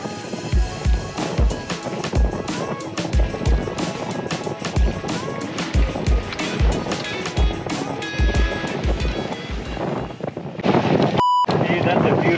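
Head sail on a sailboat flapping in strong wind during rough South Pacific weather, a rapid rhythmic slapping and fluttering over gusty wind noise, with voices talking nearby.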